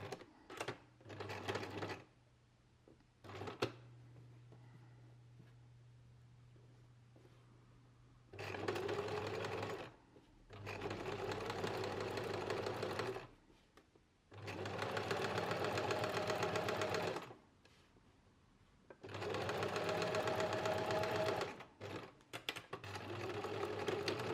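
A sewing machine runs in several bursts as it understitches a pocket seam 3 mm from the edge, each run a steady, close whirring hum separated by short quiet pauses.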